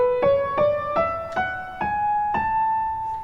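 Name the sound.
major scale played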